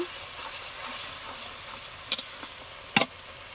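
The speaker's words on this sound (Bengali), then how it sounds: "দিলাম একটু ধনের গুঁড়ো, এই মশলাটা আমি কষিয়ে নেব।" Coriander powder spice mix sautéing in a pan for a quick soybean and potato curry, a steady soft hiss with two sharp brief clatters near the end.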